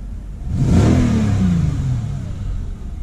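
The V8 engine of a Mercedes S550 W221 revs up close, a deep throaty roar swelling quickly then easing back toward a rumbling idle.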